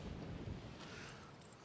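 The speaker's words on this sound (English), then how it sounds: "it is super windy today." Strong gusting wind buffets a microphone outdoors during work on a 1969 car's brakes, a steady loud rumble with no voices.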